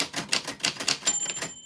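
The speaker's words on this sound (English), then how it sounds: "if your name is right when the little typewriter bell dings, it's good luck" A typewriter clacks close up with quick, uneven keystrokes, and a thin high bell rings near the end as the keys keep going, with no voices.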